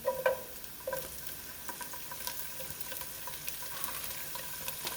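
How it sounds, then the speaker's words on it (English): Pancetta frying in a pan for spaghetti with peas, a moderate crackling sizzle with scattered pops and a few clinks of a utensil near the start. "now I'm putting in my pancetta"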